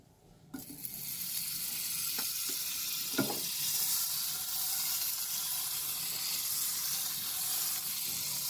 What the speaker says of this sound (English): I will add the butter in the pan.